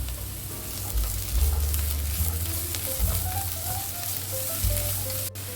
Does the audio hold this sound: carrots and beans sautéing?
yes